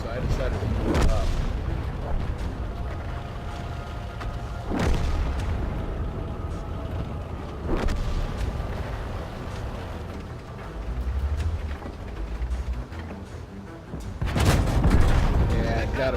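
Tank battle in World of Tanks, with heavy cannon blasts and incoming artillery shells landing; several loud booming impacts at irregular intervals over a continuous rumbling battlefield background.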